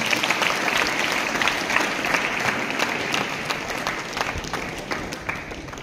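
A large audience applauds warmly to welcome a guest at a school gathering, a dense, steady wash of clapping that stays loud and even throughout with no pauses.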